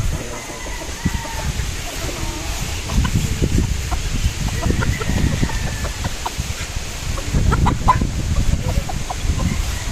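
A pure Golden Boy brood stag rooster clucks in a farmyard, its short calls rising over steady background noise, with faint voices in the background.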